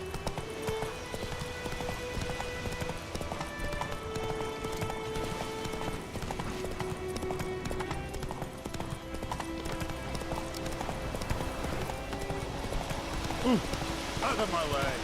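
Horse hooves clop and gallop steadily in The Witcher 3 while game music plays along, and someone speaks at points over the rhythmic footfalls.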